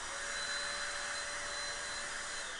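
An electric compressed-air blower duster for cleaning home PCs runs steadily at full power, a loud, continuous high-pitched whoosh with a faint whine, close by and alone without talk.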